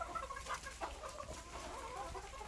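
Roosters and other fowl in a home fighting-cock yard clucking repeatedly in short, close bursts, with steady low background noise and no talking.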